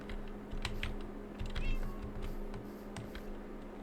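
A cat meows briefly inside the Minecraft video game, heard alongside steady computer keyboard typing and a low constant background hum.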